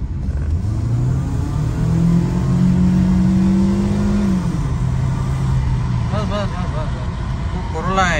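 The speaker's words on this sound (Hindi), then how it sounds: "तो रेव कर इसको।" A Toyota Corolla engine revving nearby, its pitch climbing and holding before falling back to a lower drone, with a voice speaking over the steady road rumble.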